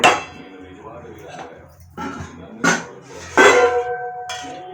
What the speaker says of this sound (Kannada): ಒಂದು ಬಾಣಲಿ ಇಟ್ಟೋಣ.